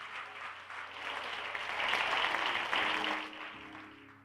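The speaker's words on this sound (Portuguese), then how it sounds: "É para Deus, aplaude mais forte." A church congregation at a Sunday celebration service claps together, a dense wash of applause that swells in the middle and eases off, with a held tone underneath.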